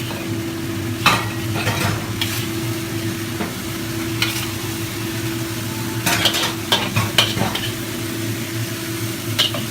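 Mapo tofu sizzles in a pan under a low steady hum while a utensil stirs it, giving short scraping clatters and taps in small bursts, with the busiest stretch near the middle.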